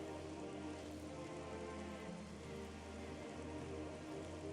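Steady rain falls on a surface, a dense even patter of drops holding at a constant moderate level throughout with no voices.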